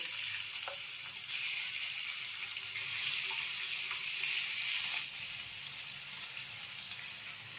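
Prawns coated in salt and turmeric sizzle in hot oil in a frying pan, a steady, close, bright hiss that runs continuously, eases slightly partway through, and carries a few faint clicks, with no voices.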